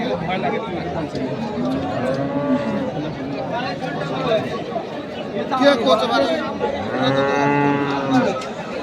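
Several drawn-out cow moos rise over a busy crowd murmur, with overlapping voices and distant chatter filling a noisy cattle market at Kaharol.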